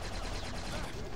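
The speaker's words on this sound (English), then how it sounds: "This guy has a chain gun." Rapid chain gun fire in Star Wars: The Force Unleashed video game, a dense burst of quick repeated shots, moderately faint and close.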